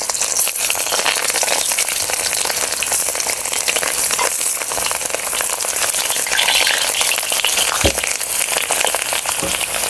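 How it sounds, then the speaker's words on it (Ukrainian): Loud, continuous sizzling of onions frying in a pan with pork ribs and potatoes, dense crackling throughout with an occasional scrape or stir. "Все це разом буде з цибулькою піджарюватись"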